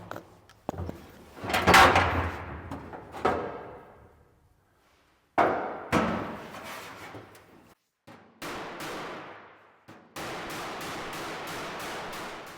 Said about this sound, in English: I'll just do a little bit of dolly work there.